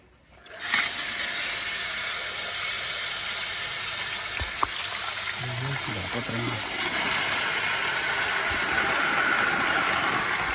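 Water gushes steadily from an opened tap on a newly drilled well, a broad continuous rushing hiss that starts abruptly and holds at an even, fairly close level, with a faint engine-like hum beneath.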